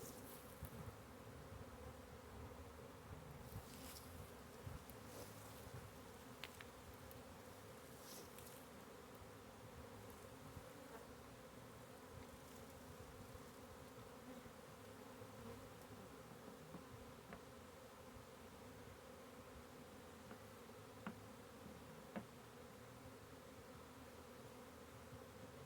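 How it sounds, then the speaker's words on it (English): A honey bee swarm clustered outdoors with several queens present, a steady, dense hum of many bees buzzing continuously close by, with occasional louder individual bees passing near. "Bunch of bees clustered up over here."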